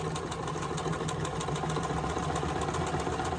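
A sewing machine runs steadily, stitching small pieced squares for a nine-patch quilt block with a continuous, even mechanical whir and vibration, close and unbroken, with no voices.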